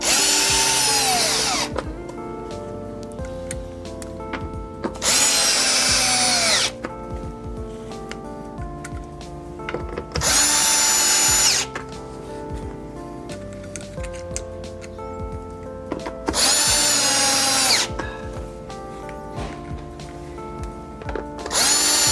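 Power drill driving five screws into a Lexus LX subwoofer panel: four loud high-pitched whirring bursts of one to two seconds each, separated by quieter pauses with handling noise.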